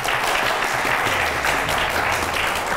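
A studio audience at a Azerbaijani TV game show claps in a dense, even burst of applause that fills the whole moment.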